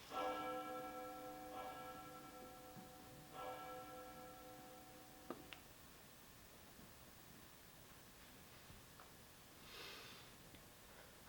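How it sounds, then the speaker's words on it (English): A church bell tolls three slow, evenly spaced strokes, then its ringing hum fades into quiet hiss, with only a faint later swell of noise and no voices. "The bell invites me."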